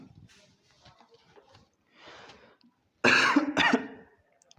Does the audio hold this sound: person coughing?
yes